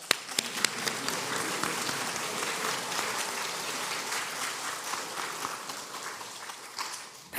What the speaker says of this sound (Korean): 하나님의 은혜 받으신 귀한 분 박수 쳐드립니다.